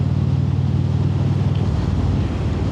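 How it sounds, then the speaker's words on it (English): Steady low rumbling wind roar inside a Shoei motorcycle helmet while riding, picked up by a DJI wireless mic, loud and continuous with a deep droning hum throughout. "it's the noise coming into the helmet, so I'm not sure there's much I can do about it"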